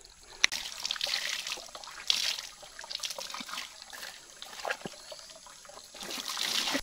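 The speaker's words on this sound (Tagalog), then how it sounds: "Tuloy-tuloy yung daloy ng ating tubig." Mountain spring water flowing continuously in a soft, faint trickle with small splashes, heard alone at close range.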